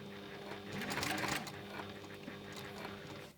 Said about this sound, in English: and then you can start stitching